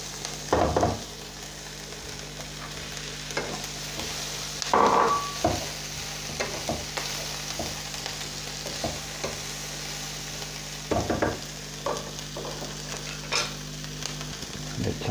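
Cauliflower frying in a pan over medium heat, a steady sizzle broken by several loud scraping stirs at intervals, close and with no voices.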